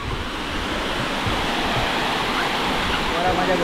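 A waterfall near Malvan running with reduced water flow gives a steady, dense rushing roar that stays constant and fairly loud throughout.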